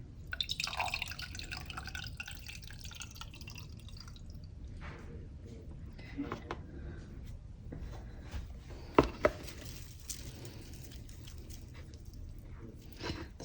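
Water trickles and drips from a watering can into a potted houseplant sitting on a tray, soft splashy sounds at close range with a few sharper drops standing out near the middle.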